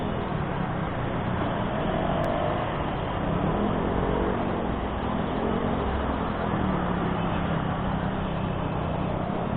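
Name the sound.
traffic on Quezon Avenue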